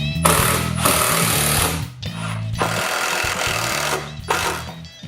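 A power driver sinks stainless steel screws into the top cap of a wooden fence gate, whirring in loud sustained bursts with brief pauses between screws, close up and without talk.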